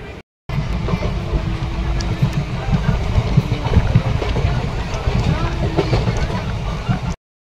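Train running after departing Puri station, a continuous loud rumble and rattle of wheels heard from inside, steady throughout.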